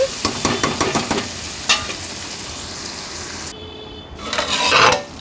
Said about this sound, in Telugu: ఇట్లా వేసేసుకొని మొత్తం కూడా ఆయిల్లో ఫ్రై అయ్యే విధంగా కలిపేసుకోవాలండి.